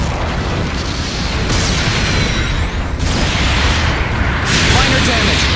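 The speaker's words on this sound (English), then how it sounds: "The bomb has destroyed our base!" A bomb explosion destroys a base in Gundam Battle Operation 2, a loud, sustained roaring blast with rumbling swells and crackling debris throughout, with a voice over the din.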